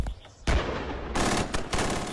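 Military weapons firing during training in the hills, heard in archive footage: a few sharp, loud bursts of gunfire and rapid shots over about two seconds.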